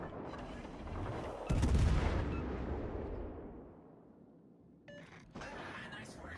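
Warship guns fire armor-piercing rounds in a naval battle game: a sharp, booming report with a long rumbling decay, then a couple of quicker, crisper shots near the end.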